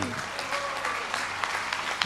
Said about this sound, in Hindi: जोरदार तालियां मित्रों।